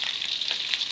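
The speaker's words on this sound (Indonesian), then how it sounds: "minyak panas, kita masukkan tahu yang sudah diiris-iris tadi ya" Sliced tofu frying in hot oil, a steady bright hiss of sizzling oil close by with slight flickers, no voices.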